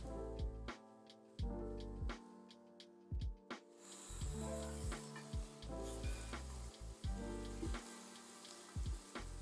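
Zucchini and yellow squash cook down in a hot pan, a steady frying sizzle broken by repeated clacks and scrapes of a utensil stirring against the pan, fairly close and moderately quiet.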